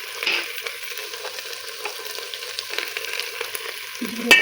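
Spice powders frying in oil for a vegetable biryani, a close steady crackling sizzle with small stirring scrapes throughout and a metallic clink at the end.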